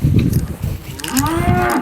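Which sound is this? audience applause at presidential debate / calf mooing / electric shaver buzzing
calf mooing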